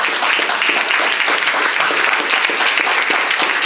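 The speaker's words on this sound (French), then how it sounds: "Ça acclame le Seigneur ce matin." A church congregation applauds during a morning service, with dense, steady clapping from many hands filling the room without a break.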